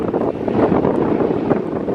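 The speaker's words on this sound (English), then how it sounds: "it's a really windy day" Steady wind buffets the microphone on a hiking trail on a very windy day, a loud, continuous rumbling roar with no pauses.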